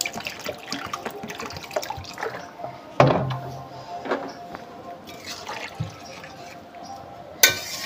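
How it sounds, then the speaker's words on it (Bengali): Water is poured into a pot of hilsa fish curry with potatoes in a home kitchen, giving faint splashing and dripping, with a few clinks and bumps of utensils nearby. "আর একটু জল দিয়ে দিই, ঝোল ঝোল মতন করতে বলেছে মা।"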